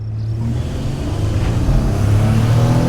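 A 2014 Toyota Sienna minivan engine drones steadily during a 0-60 mph acceleration run, its tone climbing slightly toward the end, heard from the cabin without any voices.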